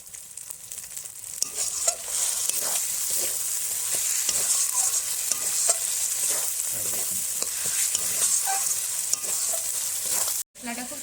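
Spice masala for a home-style Bengali mutton curry sizzles steadily in oil, with repeated scraping stirs of a spoon against the pot and no talking.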